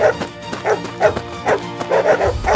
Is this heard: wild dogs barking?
yes